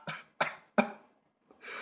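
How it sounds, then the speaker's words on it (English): A short burst of three harsh coughs in quick succession, close and fairly loud, followed by a pause and a softer breathy cough. "Had a bit of a coughing fit there"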